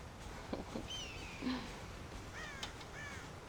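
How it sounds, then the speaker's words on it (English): Crows caw in the video game Red Dead Redemption, several harsh, distinct calls rising and falling at a moderate distance over a quiet outdoor ambience, with no speech. "God damn crows!"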